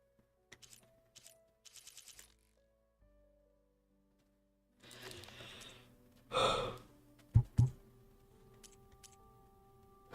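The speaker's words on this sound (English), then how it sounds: "I don't mean to yawn so much" A person yawns once with a long, breathy drawn-out exhale after a few quiet taps and clicks, heard close by during a Horizon Forbidden West gaming session.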